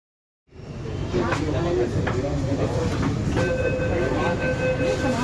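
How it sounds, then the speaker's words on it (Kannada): A Bangalore metro train in motion, heard from inside the carriage: a steady loud rumble of wheels and car body with rhythmic clicks, a sustained tonal whine, and passengers talking underneath. "ನಾನು ಫಸ್ಟ್ ಟೈಮ್ ಮೆಟ್ರೋ ಟ್ರೈನಲ್ಲಿ ಹೋಗೋದು,"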